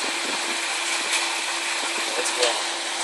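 A cooling fan mounted on a car audio amplifier blows a steady, even rush of air, close and continuous, with a faint tonal hum running underneath.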